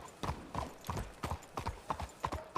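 Hooves of three or four horses out front clop on a hard surface in a steady, uneven walking rhythm of about eight to ten distinct strikes, fairly close, with no talking and no clear neigh.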